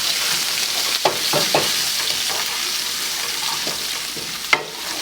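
Thai chilies sauté in hot oil in a pan alongside hing, mustard seeds, cumin seeds and ginger, making a steady, fairly loud sizzle broken by a few light stirring knocks.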